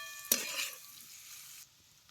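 A sharp scrape starts a short burst of sizzling as Bombay duck fish is stirred in a hot pan, then a quieter steady fry.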